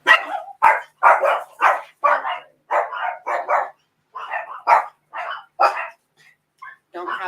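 Several small chihuahuas bark and yip in rapid, loud bursts close by, a steady run of sharp barks that ends in a few softer whimpering yelps.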